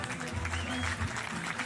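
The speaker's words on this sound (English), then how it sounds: "coach giving a big round of applause" A coach claps at the final of a WST World Cup street skateboarding contest in Rome, with steady applause blending into the crowd noise under a commentator's talk.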